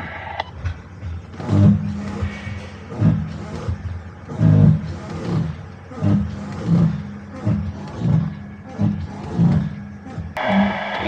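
A camper van's brakes are tested on a roller brake tester during a roadworthiness inspection: a steady mechanical roller drone with rhythmic, repeating surges of louder grinding and hum, close and continuous.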